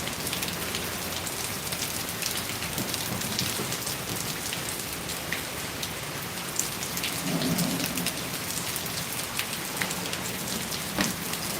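Steady rain pours at a racetrack in a continuous, even hiss of drops and splashing, close and loud, with a faint rumble of thunder underneath and no talking.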